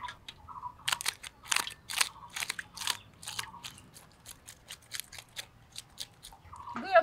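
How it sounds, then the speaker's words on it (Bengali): A spoon scrapes scales off a rohu fish in short, sharp, crunchy rasps, coming as irregular bursts close up, with brief pauses between strokes. "চামচ দিয়ে আঁশটা ছাড়িয়ে নেই।"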